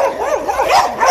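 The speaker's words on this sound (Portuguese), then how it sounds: "Cachorro." A dog barks in a quick run of close, loud, whining yelps and barks, one after another without pause, on a rural plot where a power pole is being put up.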